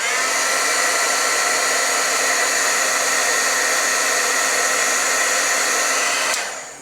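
An embossing heat tool blows hot air over a rubber-stamped flower design, a steady loud whooshing hum at close range that cuts off abruptly at the end.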